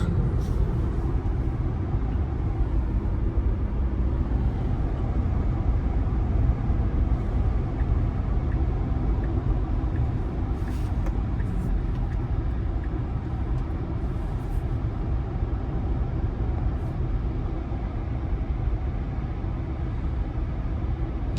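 Steady low road rumble and tire hum inside a 2026 Tesla Model Y Juniper cruising on a highway, constant and even with no talking.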